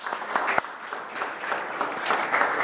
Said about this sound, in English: let's rise and give a loud round of applause for Rabbi Paysach Krohn